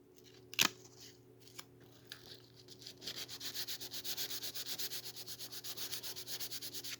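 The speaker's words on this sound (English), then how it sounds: "I'm gonna put some tape around the edges again, and I'm gonna sand it some more" Sandpaper of 600 grit rubs back and forth over taped carbon fiber, starting with a few scattered scrapes, then settling into a steady, close, rhythmic scratching.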